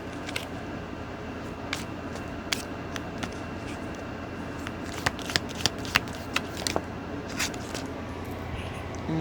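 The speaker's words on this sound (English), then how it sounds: "And these cards want to fall on the floor." Tarot cards are shuffled under a steady hiss of background noise, with scattered soft riffling clicks and taps that grow more frequent midway.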